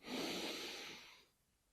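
A single slow, close exhale during a breathing exercise, a soft airy rush of breath that fades out after about a second.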